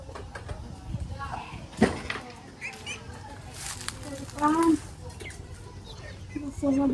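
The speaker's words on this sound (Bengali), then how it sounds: "পাখি" Short tonal bird chirps rise briefly out of a busy outdoor scene in a Bengali village on a sunny day, heard amid nearby voices and children playing.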